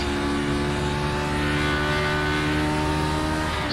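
A race car engine in the iRacing simulator, a vintage Grand Prix car lapping the Motegi oval, drones loud and steady at high revs with a continuous buzzing tone and no break.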